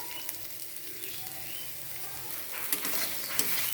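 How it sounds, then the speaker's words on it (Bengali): Chopped onions frying in a little oil in a wok give off a soft, steady sizzle, faint and continuous, with occasional small pops and stirring clicks. "এবার কেটে রাখা পেঁয়াজগুলো ভেজে নেব।"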